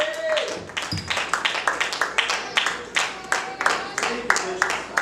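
A church congregation claps rhythmically in a steady, repeated beat, filling the room with dense overlapping handclaps that continue throughout.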